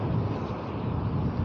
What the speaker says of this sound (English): Even right now it's windy like hell